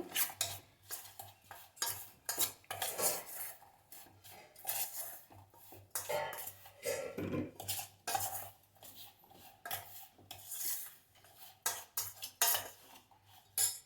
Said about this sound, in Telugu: ఆవపిండి అండి ఫస్ట్ వేస్తున్నాను. ఒకసారి కలుపుకోండి.